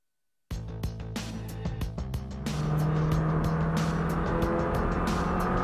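A Lotus Exige sports car on a race track, its engine starting with rapid revving bursts, then pulling into a loud, sustained acceleration that climbs steadily and stays close, with no talk over it.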